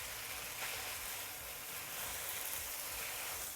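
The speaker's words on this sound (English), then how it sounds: "When you hear that the sound is sizzling like this" Steady, quiet sizzling of rice vermicelli noodles frying in a pan with bean sprouts and sauce, a continuous soft crackle and hiss with no voices.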